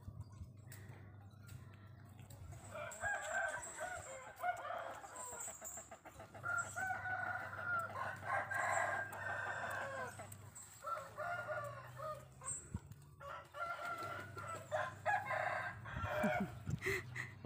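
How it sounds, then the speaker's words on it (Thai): A rooster crows several times in a row, each call drawn out and moderately close, with softer clucking and faint background noise between the calls. "อ้วนไก่คันแล้วอ้วน"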